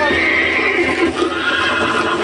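A horse in the video game Red Dead Redemption lets out a loud, drawn-out neigh over a busy, dense game soundscape, with hoof clip-clop mixed in.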